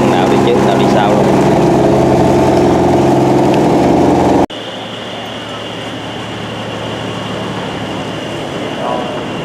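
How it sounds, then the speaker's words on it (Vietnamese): A large barge engine in a crowded Vietnamese canal lock runs at a steady loud drone, then cuts abruptly to a quieter, steady engine hum with background noise. "Chiếc ghe khổng lồ"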